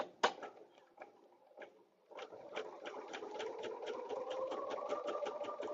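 A sewing machine stitches a quilted rose garden placemat, its steady rapid needle rhythm running close and continuous after a brief start-stop, with no talking.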